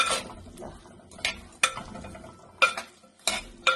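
A spoon stirs prawns and drumstick pieces in a pot for shrimp curry, giving a few soft scraping strokes and light metallic clinks in a sparse, uneven rhythm, fairly quiet and close.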